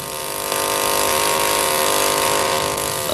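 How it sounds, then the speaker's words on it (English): A diamond drill boring cores out of lava rock runs loud and continuous, a steady high-pitched mechanical whine with a grinding edge that barely changes throughout. "A diamond drill is used to obtain cores of lava."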